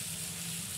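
Green chili, garlic and cumin paste sizzles in a pan with fried onions for a village-style potato chutney, giving a steady, soft, continuous frying hiss with no break.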